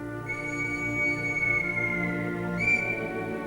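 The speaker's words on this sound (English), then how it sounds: "An impatient whistle signals the journey is about to begin" The Flying Scotsman steam locomotive sounds its whistle at a station before departing: one long, steady chime-like blast with rich harmonics, loud and fairly close, swelling slightly near the end, with no talk.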